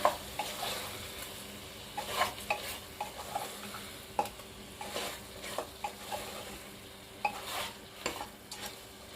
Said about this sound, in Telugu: కొంచెం ఈ కారం అంతా పచ్చివాసన పోయేదాకా కొంచెం ఫ్రై చేసుకోవాలి